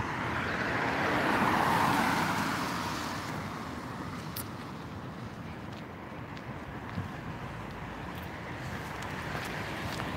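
Cars pass along a road beside a university campus in Las Vegas, a steady rushing roar that swells and fades with passing vehicles, mixed with outdoor wind noise and no talking.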